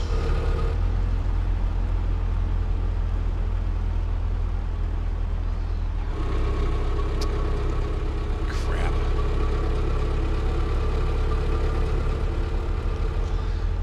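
A car engine idles with a steady low hum in the driving game My Summer Car, growing fuller partway through and running continuously while a person talks over it.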